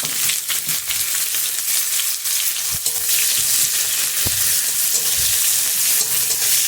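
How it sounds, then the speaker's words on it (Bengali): Onions sizzle and crackle steadily in hot oil in a pan, along with chilli, cumin seeds and bay leaf. The dense, continuous frying hiss runs close and loud, with occasional scrapes of stirring and no voices. "পেঁয়াজটা ভালো করে ভেজে নিতে হবে।"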